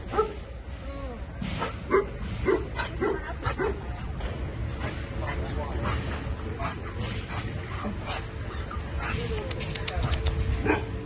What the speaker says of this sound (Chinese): 柯基宝宝